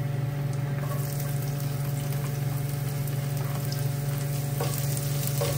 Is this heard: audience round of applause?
no